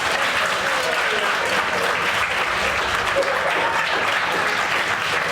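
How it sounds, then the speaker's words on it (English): Steady applause from a group at an apprentice chef cooking workshop, dense continuous clapping filling the room for several seconds after a dish is finished. "Give him a round of applause, guys."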